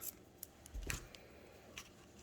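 Scissors snip through crochet yarn while finishing an owl eyeglass holder: one quick, close cut, quiet and set against a still background.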